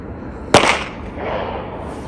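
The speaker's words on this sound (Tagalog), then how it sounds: "Paputok sila doon sa may likuran." A single sharp firecracker bang pops out from a distance, followed by a brief rumbling echo over steady background noise.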